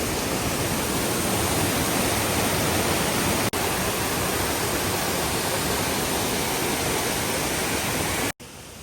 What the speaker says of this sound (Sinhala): දූලි ඇල්ල කියන්නේ දූවිලි ඇල්ල කියන්නේ දියැලි දෙකක්.